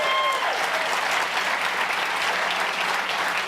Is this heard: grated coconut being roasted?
no